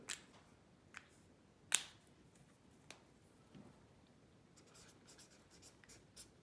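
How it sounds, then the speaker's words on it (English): A teacher marks lines on a graph during an algebra lesson, leaving faint scattered ticks and one sharp tap on a quiet background. "we can draw in as many as we like or need"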